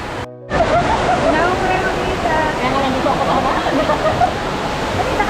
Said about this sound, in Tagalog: Waterfall view.